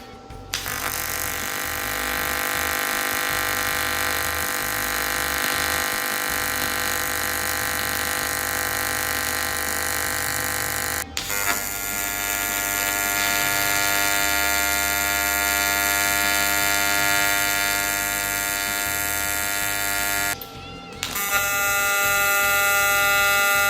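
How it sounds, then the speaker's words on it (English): An aluminum welder runs a sustained, loud buzzing arc while its frequency setting is changed, shifting the tone between passes. The arc breaks briefly twice before restarting. "Let's get some welding done and I'm gonna play with the frequency"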